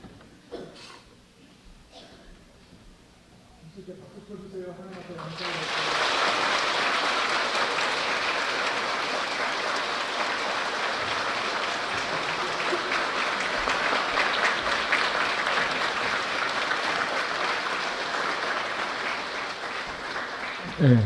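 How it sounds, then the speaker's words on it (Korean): A Korean church congregation during a Sunday service gives sustained, full applause during a celebratory cutting, rising after a few seconds of quiet talk and holding steady for over fifteen seconds. "하나님 앞에 감사와 영광의 박수를 올리겠습니다"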